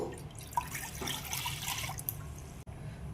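Water poured into a cooking pot on the stove, a faint trickling and splashing stream running for a couple of seconds, then cut off with a small knock and a quiet room hiss.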